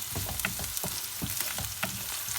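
Carrots and leeks fry in olive oil in a pan with a steady, dense sizzle and occasional stirring scrapes throughout.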